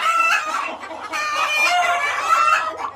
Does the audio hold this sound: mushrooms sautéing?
no